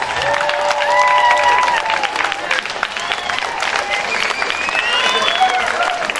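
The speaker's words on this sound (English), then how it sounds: "Stand up and give him that big of hand and applause" Audience applause and cheering at a cultural diversity night event, a sustained crowd of clapping mixed with whoops and raised voices, loud and steady throughout.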